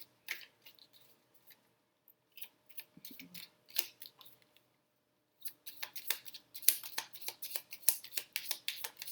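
A tarot deck being cut and handled, with crisp papery card snaps and shuffles in irregular bursts, sparse at first and then busier and louder toward the end, with no talking.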